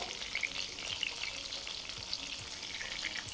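Stuffed bitter gourd (karela) fries in oil over low gas, giving a steady, close, continuous sizzle with soft crackles and pops and occasional stirring or turning of the pieces.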